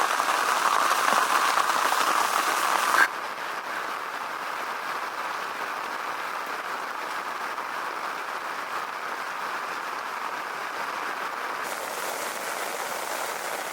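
Steady rain falls at a farm lake in France during a carp fishing trip, a dense, even hiss that is louder for the first few seconds, then continues slightly softer with no talk.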